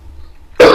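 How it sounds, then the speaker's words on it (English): A single sharp cough bursts in near the end, loud and close, after near-silence with a faint low hum. "I'm coughing."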